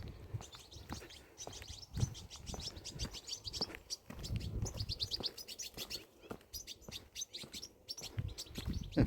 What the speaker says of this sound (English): Yeah, very chatty birds.